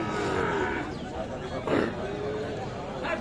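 A cow lows in a busy village cattle market, a couple of drawn-out moos rising over steady crowd chatter and nearby people talking.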